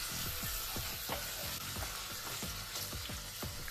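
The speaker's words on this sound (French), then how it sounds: "L'ail et je fais revenir." Garlic and pork belly sauté in a hot pan with a loud, dense sizzle and a steady run of spattering crackles and pops, close up with no talking.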